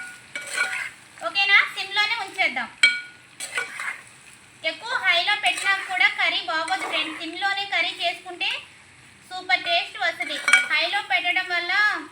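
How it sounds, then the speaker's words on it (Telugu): Chicken curry in a pot is stirred with a metal spoon, clinks and scrapes under a steady frying sizzle, while someone talks over most of it. "ఒకసారి తిప్పుకుందాం ఫ్రెండ్స్ తిప్పుకొని మూత పెట్టుకొని"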